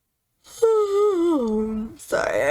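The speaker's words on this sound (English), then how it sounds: "sorry, I have yawns" A person yawns aloud, one long drawn-out vocal yawn falling in pitch, followed by a brief voiced sound.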